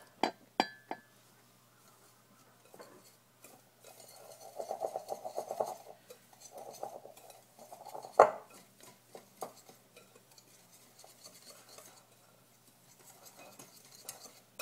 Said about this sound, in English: I'm going to whisk that up before I add my cheese.